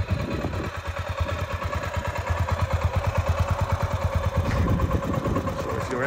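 A 1991 Honda GB500 Tourist Trophy single-cylinder motorcycle idles up close on a cold start, thumping in a steady quick pulse that briefly firms up before settling, with light mechanical clatter.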